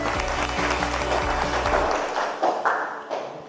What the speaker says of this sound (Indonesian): Tepuk tangan untuk Nerina.